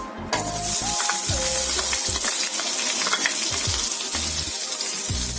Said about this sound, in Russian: Сейчас мы будем обжаривать лучок.